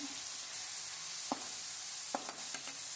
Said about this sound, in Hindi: तो यहाँ पर जी चिकन को जो है वो अच्छे से फ्राई करेंगे।